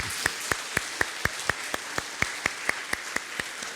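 A church congregation claps in unison to an even, brisk beat, each sharp clap evenly spaced against a quiet hall.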